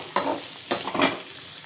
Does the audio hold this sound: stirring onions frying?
yes